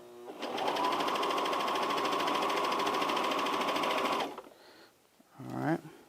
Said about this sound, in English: I think I'm definitely sewing on top of fabric, so I'm gonna try to like come off of that